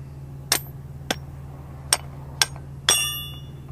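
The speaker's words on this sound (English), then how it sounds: "Got to have your hammer, your schlager." A hammer strikes a metal pin during field setup of a DCI TensiTrak on product pipe, five sharp ringing metallic taps spaced about half a second apart over a low steady hum, the last one ringing longest.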